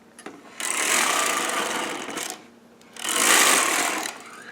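A Sister toy knitting machine knits a plain hem, its carriage rattling loudly in two long passes with a short pause between them, close and without talking.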